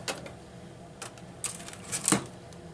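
Scissors snipping through folded paper for a butterfly craft, a few separate close crisp clicks and cuts spread out over a couple of seconds, ending in a louder snip.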